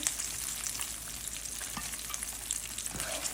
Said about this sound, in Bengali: এখন আমি লো হিটে আমি ফ্রাই করব চিকেন ফ্রাই হয়ে গেছে